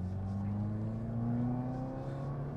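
A 2016–2017 Subaru WRX engine heard from inside the car during a heel-toe downshift, with a steady close drone and rising harmonic tones as the revs climb smoothly, no talking.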